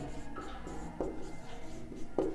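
Chalk or marker writing on a board during a maths lesson, heard as soft scratchy strokes with a few sharper taps over a couple of seconds, close and moderately quiet.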